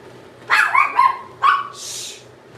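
A small dog barks close by: a quick run of three sharp yips, a pause, one more bark, then a soft breathy huff.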